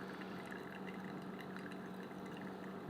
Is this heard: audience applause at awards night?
no